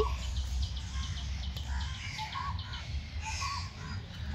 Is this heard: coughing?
no